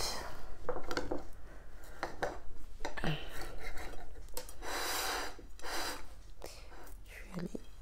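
A knife cuts through a no-bake banana cake made with sandwich bread, giving several short scraping and tapping bursts of blade against plate and crumb, moderately close, with brief gaps between strokes.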